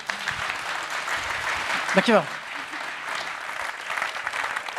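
Audience applause at a local business award ceremony in Leiderdorp, a steady wash of clapping heard beneath a speaker's voice briefly thanking the crowd.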